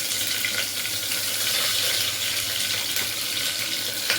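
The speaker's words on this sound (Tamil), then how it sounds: "கடுகு நல்லா பொரியணும்." Mustard seeds and curry leaves crackle and splutter in hot oil for green peas kootu, a steady dense hiss of popping that stays even and close throughout with no talking.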